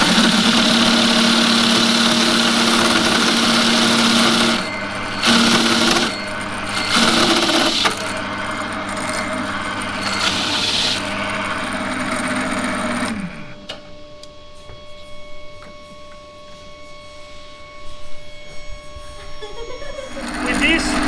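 A drill press motor runs with a steady hum and whine that cuts off partway through, then a softer whirring winds down while a person speaks nearby.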